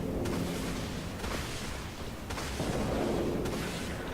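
Artillery cruisers in the space combat game Dreadnought fire repeated heavy booming shots, about four thuds spaced roughly a second apart over a constant rumbling battle din, with no speech.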